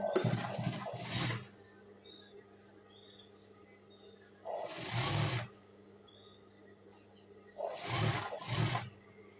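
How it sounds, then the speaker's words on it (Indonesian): A sewing machine stitches a curved line along a shirt collar in three separate close bursts of rapid whirring, with quiet pauses between them. "Jahitan bantu tadi tinggal kita sambung dari atas mengikuti pola kerahnya melengkung ke bawah."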